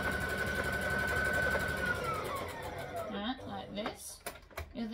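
A sewing machine stitches fabric for an unpaper towel, a steady close whirring hum that slows and winds down toward the end, followed by a few light clicks and handling sounds.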